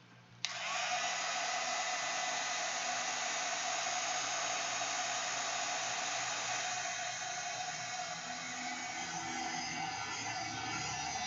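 A hair dryer switches on with a click and runs steadily to dry a paper collage, a loud continuous close-up whooshing hum with no other sounds.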